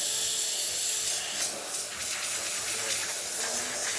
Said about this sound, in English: Steam for this machine, as you can see, pretty strong.